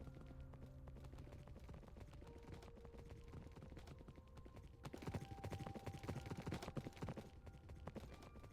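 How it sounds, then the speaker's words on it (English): Steady rhythmic hoof clip-clops of a horse trotting in Minecraft, quiet and continuous, picking up slightly in pace partway through with a faint game-like background. "Going on the horse ride."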